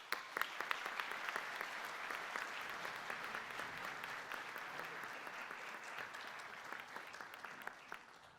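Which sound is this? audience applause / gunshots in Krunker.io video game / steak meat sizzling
audience applause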